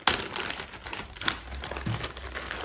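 Plastic and cardboard packaging of a Gorillapod tripod crinkles and rustles as it is opened by hand, a steady close crumpling with a few sharper crackles throughout.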